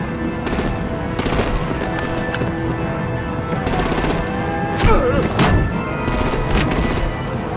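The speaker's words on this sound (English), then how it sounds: "Break out the artillery and disable their vehicles!" Bursts of automatic gunfire and heavy shots ring out continuously from the Batman: The Enemy Within video game, a busy firefight with sharp impacts and a louder blast near the middle, over a steady rumbling battle backdrop.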